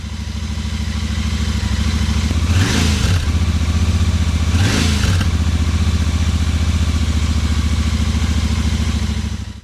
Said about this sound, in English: I revved the bike up to about 3000 RPM